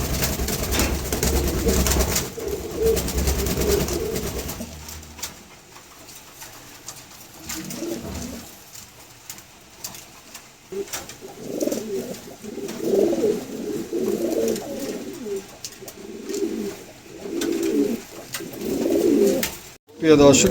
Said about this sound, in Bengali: দেখার মতন একজোড়া কবুতর